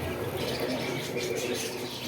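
Coturnix quail chicks, about 26 days old and around 200 grams each, chirp steadily on a farm in Bakshiganj, Jamalpur. Their calls are faint and blend into a continuous, noisy background with no clear breaks.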